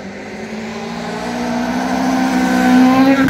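Rally car engine at the 2019 Kyläseppä rally stage revving steadily upward, pitch rising as it accelerates and growing louder toward the end, with no voices.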